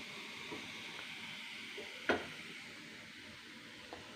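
Onion, green chilli and curry leaves sauté in a pan for corn upma with a soft, quiet sizzle, broken once midway by a brief utensil knock.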